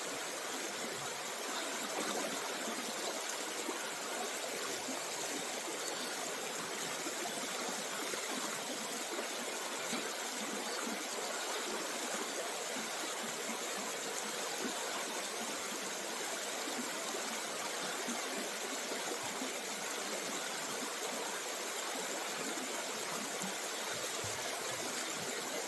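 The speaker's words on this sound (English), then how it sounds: "You want to enjoy the river real quick?" An outdoor river flows in a constant, dense rush of water, steady and even for the whole stretch with no voices.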